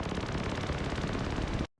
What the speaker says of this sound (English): So I broke out my Arturia Microbrute and I used that to design this more sort of textural element